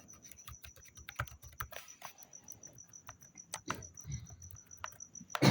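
Rapid typing on a computer keyboard while entering an HTML mailto link, with quick irregular key clicks close to the microphone and a steady high electronic whine in the background; no talking.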